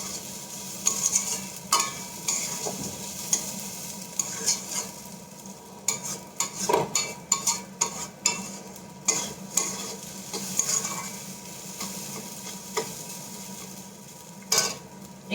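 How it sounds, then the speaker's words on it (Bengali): Pulao being stirred with sugar in a pan: repeated scraping and clinking of a spoon against the metal over a low sizzle, irregular strokes bunching together, close and fairly loud with no talking. "চিনিটা দিয়ে আবার ভালো করে একটু নেড়ে নেব।"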